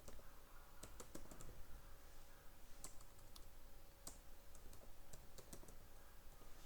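Soft, rapid keystrokes on a computer keyboard as code is entered, a steady patter of clicks with a few sharper taps, fairly faint and alone against a quiet background hum.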